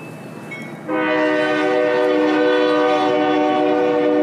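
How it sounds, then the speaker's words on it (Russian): A railway safety inspection car sounds its horn: after a quieter stretch of ambient noise, a loud, sustained multi-tone blast starts abruptly and holds steadily to the end, close and dominant. "Какой-то вагон для проверки безопасности."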